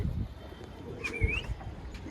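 Antique pigeons in a breeding loft, including black chadne birds, give a few soft coos and faint calls over low background rumble, with no talking.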